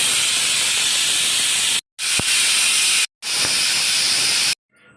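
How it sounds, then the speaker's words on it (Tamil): A pressure cooker boiling lentils with fenugreek and turmeric for sambar lets off loud, close hissing bursts of steam, three long blasts broken by brief silences, with no speech. "குக்கர் மூடி ஒரு 5 விசில் விட்டுடலாம்."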